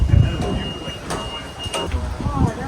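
The Penang Hill train in Malaysia rumbles and rattles close by with low, continuous mechanical noise and a few metallic clanks, while people talk over it.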